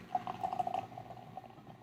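Stump Knocker APA from Swamp Head Brewery is poured straight into a glass, a soft fizzing, gurgling liquid sound with faint bubbling that trails off, fairly quiet and close.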